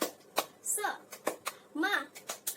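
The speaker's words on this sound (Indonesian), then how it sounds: "Kita tepuk semangat dulu ya." A primary school class in a micro-teaching lesson does a rhythmic spirit-clap routine, with sharp hand claps in a patterned beat mixed with children chanting along, close and moderately loud.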